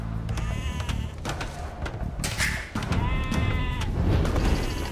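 Sheep bleat repeatedly in Age of Empires II, several wavering calls over a dense, loud game background with clicks and effects.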